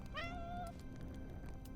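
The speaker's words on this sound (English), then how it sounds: "A thin, trembling kitten emerges from the corner and eats happily." A thin, trembling kitten in a video game gives one short, high meow, close and clear over a low background hum.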